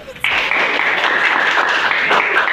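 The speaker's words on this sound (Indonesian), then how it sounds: "Tolong tepuk tangan yang mulia untuk kelompok umum" Applause from a class of students for a student group during a classroom lesson, a dense steady patter of many hands that starts abruptly and holds at an even, fairly loud level to the end.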